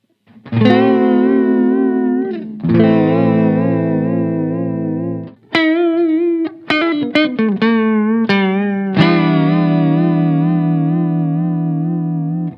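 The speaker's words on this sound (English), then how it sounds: "let's hear both pedals on" Sustained electric guitar chords drenched in wavering, warbling modulation from KOKKO Vibrato and BOSS VB-2w pedals on together, loud and close, with a few quick picked notes in the middle before the chords return.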